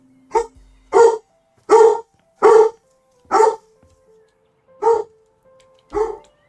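A puppy in the House Flipper 2 video game barks about eight times, with sharp, evenly spaced barks close up against an otherwise quiet background.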